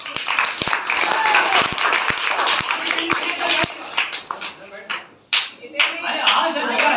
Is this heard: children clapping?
yes